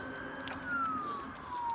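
A distant ambulance siren wails faintly, its pitch gliding slowly downward over low background traffic noise.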